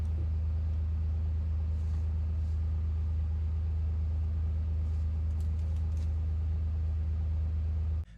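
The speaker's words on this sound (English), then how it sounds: "I hear the ATV." An ATV drives nearby in a game-warden stealth-shelter challenge, its engine a steady, loud low rumble that holds without a break and stops abruptly at the end.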